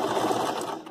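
A sewing machine runs steadily for under a second, stitching two scraps of blanket fabric laid side by side into one piece, a close, even mechanical whir with no talk.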